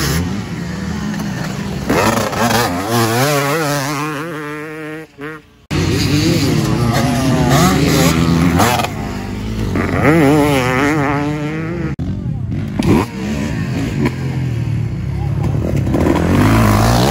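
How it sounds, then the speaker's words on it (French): Motorcycle engine running and revving as a veteran rider takes it out, loud and close with rising and falling pitch, one short dropout, a voice talking over it. "Oh là là ce bruit bordel. Et il est en train d'essayer ma mob"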